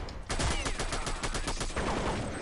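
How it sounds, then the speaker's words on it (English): Rapid assault rifle fire in the video game Counter-Strike, a dense run of sharp, evenly spaced shots starting after a brief quiet moment and continuing loud and close for over two seconds. "at least Oreo has worked out how to use the assault rifle now"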